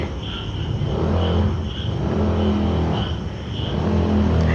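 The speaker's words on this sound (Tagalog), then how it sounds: "Katakot yung tunog ng motor." A loud Chinese-made motorcycle engine roars steadily nearby at a cemetery in Baguio, its low rumble swelling and easing slightly as it moves past, with no voices.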